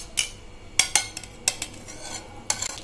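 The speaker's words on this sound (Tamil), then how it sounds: "இப்போ இதை நல்லா நம்ம கலந்து விட்டுட்டு முட்டையும் போட்டு கலந்துடலாம்" A spoon stirs a milk and sugar mixture in a bowl, sounding as sharp, irregular clinks and taps of metal against the dish, close and fairly crisp, with quieter swishing between the strikes.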